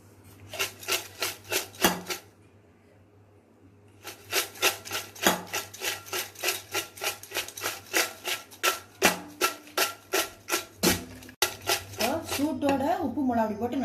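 Hot fried raw banana chips shaken in a container with salt and chili powder give a rapid rhythmic rattling in regular bursts, with a short pause and then a longer run of crisp shakes, close and fairly loud; a voice speaks near the end.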